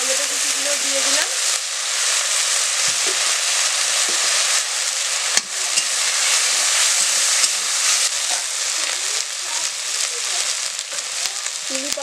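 Chopped tomatoes fry in a pan with onion, ginger and garlic, making a steady, close hiss and sizzle with a few soft clinks scattered through.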